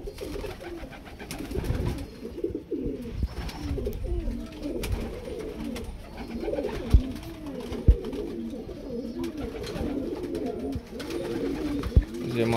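A pair of Kalanka pigeons cooing steadily and close by, with repeated rolling coos over a low background hum and a few sharp knocks.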